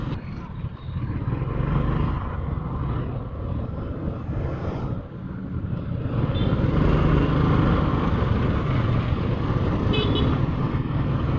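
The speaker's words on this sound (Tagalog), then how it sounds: "Ayan, traffic na naman." Steady road traffic in rain, with cars and motorbikes passing close and a brief horn toot near the end, a continuous dense wash of engine and tire noise.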